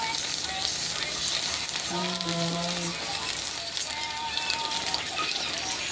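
Banana slices cooking with sugar in a pan give a continuous close sizzle and crackle, with a brief tonal clink or scrape midway and no talking over it.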